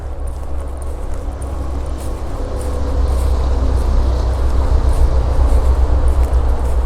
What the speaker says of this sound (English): Big road by the sound of it. That's a big truck.